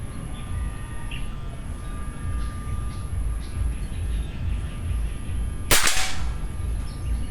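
A single sharp shot from a .22 calibre PCP air rifle with a 27-inch barrel cracks out near the end, standing out against a steady outdoor background hum.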